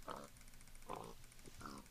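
A video game pig in a jungle gives three short grunting oinks, evenly spaced and faint, with no talk over them.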